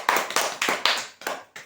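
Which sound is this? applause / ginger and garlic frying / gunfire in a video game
applause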